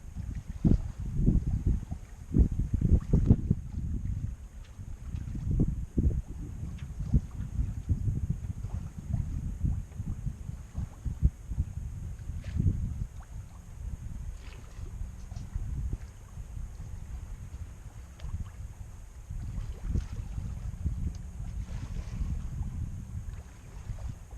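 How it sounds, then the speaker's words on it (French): Steady rushing of water along a sailboat hull under sail at about 4 to 5 knots, with wind buffeting the microphone, a continuous wash with no engine and no talking. "Le bateau se déhale doucement."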